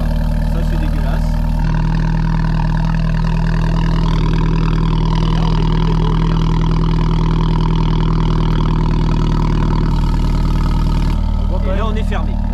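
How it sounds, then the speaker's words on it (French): Car engine starting and then idling with its exhaust valves closed, a loud steady low rumble with a brief rise in revs, heard alone up close. "il va démarrer le véhicule. On est sur des valves fermées, bien évidemment."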